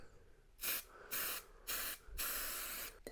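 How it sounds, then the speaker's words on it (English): Three short hissing bursts of spray adhesive onto foam, then a longer continuous spray, close up and alone in a quiet room. "we will need to spray both sides of one piece of foam here"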